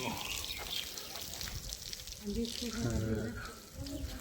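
Water flows from a motor-driven pump amid flooding in village homes, a soft, uneven gush heard at low level with talk mixed in.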